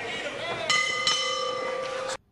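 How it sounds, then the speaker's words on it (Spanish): A boxing ring bell rings between rounds at a pro bout, sounding as a ringing metallic tone struck about twice in quick succession, then cut off sharply, with faint arena murmur beneath. "Va a sonar la campana."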